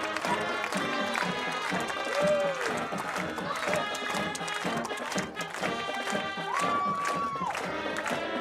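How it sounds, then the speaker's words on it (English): A large crowd at a high school football game, Stigler vs Sallisaw, cheers and claps loudly and continuously, with whistles and shouts rising above the dense applause. "Let's give one more round of applause for the sound of Stigler"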